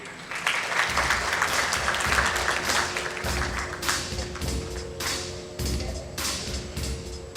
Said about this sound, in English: let's put our hands together and give Mr. Atul Bagai a big round of applause